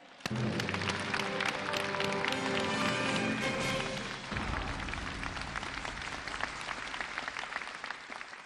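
A studio audience applauds a PLA Hong Kong garrison regiment chief of staff onto the stage of a televised lecture show: loud, dense, sustained clapping, with music playing under it at first.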